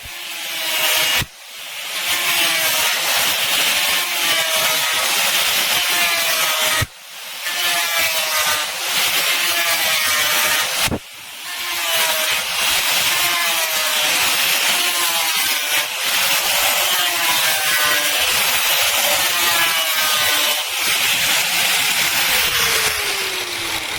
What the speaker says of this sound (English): I'm going to do a little bit of gouging out with the sanding disc